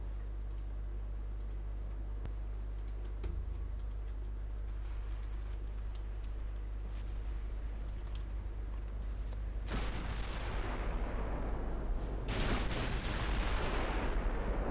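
Heavy naval guns and torpedo hits boom in a warship strategy game set in a 1925 Norwegian campaign: faint clicks and distant thuds, then two loud, broad explosive blasts late on over a steady low hum.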